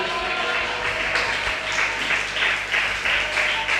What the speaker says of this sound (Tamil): ஒரு கைத்தட்டு கர்த்தரை கொடுங்க பார்க்கலாம்.